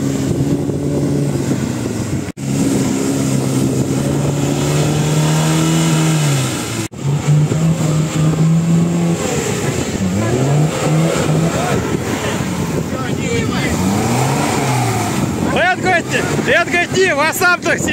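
A car engine revs hard and repeatedly while stuck in mud with no traction, pitch rising and falling as it strains, loud and close, with voices talking over it.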